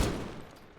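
A short burst of video game gunfire in a competitive match, a loud rattling fusillade that decays within a second.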